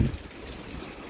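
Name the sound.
heavy rain falling on rooftop garden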